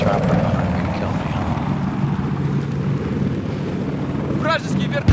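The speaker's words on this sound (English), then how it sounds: "Here comes a chopper behind me and kill me." A helicopter in an Xbox One shooter game passes overhead with a loud, continuous rotor roar, while game sounds and brief voices come in near the end.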